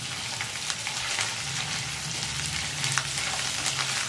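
Ginger garlic paste frying with onions for a spinach tomato egg curry, a dense, steady crackling sizzle close up, with occasional spoon scrapes and no voices.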